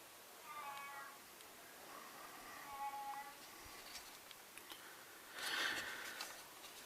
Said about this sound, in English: this is my crazy cat Mitch